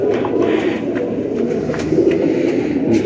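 Sialkoti pigeons coo close by in soft, repeated low throaty calls, steady and unaccompanied by speech.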